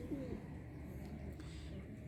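A red pigeon coos softly, a brief low throaty call at the start, faint and close against a quiet background hum.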